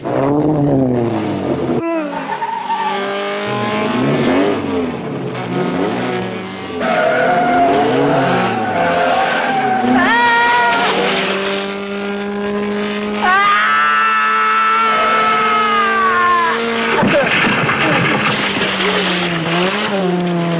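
A car engine roars and whines continuously in a film chase, rising and falling in pitch as it speeds and revs hard, with occasional screeching tones throughout.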